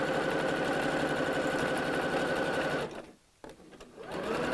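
A sewing machine stitches through loosely woven burlap fabric, a fast steady mechanical whir close up that stops briefly and then starts running again.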